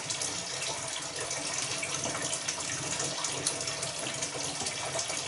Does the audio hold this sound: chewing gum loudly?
no